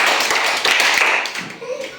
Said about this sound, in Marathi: हिच्यासाठी सगळ्यांनी टाळ्या वाजवायच्या